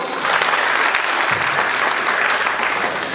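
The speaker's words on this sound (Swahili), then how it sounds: "Nipigieni makofi." Sustained applause from an audience at a youth organization launch at the Bomas of Kenya, loud and even throughout with a steady wash of many clapping hands and no talk over it.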